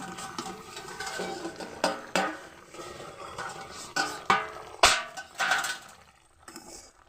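A lid comes off a cooking pot of ridge gourd and potato curry, giving several sharp metallic clanks and scrapes against the rim, close and fairly loud, with softer stirring noises between them.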